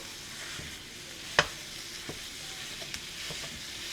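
Leftover hamburger meat sizzles steadily in a pan, a soft continuous frying hiss with a few sharp pops and crackles breaking through, heard close and without talk.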